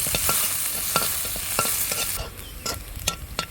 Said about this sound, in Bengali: এখন আমি পেঁয়াজটাকে ভালোভাবে ভেজে নেব